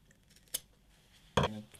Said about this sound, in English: I'm going to trim a bit off the seam.